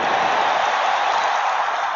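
A loud, steady roar of a large crowd cheering a big game win, sustained without a break.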